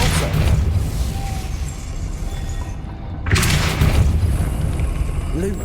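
A Depulso spell cast in the Hogwarts Legacy video game gives a loud, booming whoosh that swells after a brief lull, with a rumbling low-end thump over steady game ambience.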